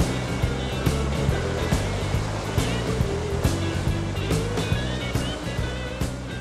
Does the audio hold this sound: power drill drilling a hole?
no